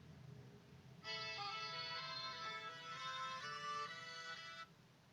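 A Samsung Galaxy S3 Mini plays music through its small built-in speaker: a bright, tonal melody of steady notes starts suddenly after a quiet second, holds for about three and a half seconds, then cuts off.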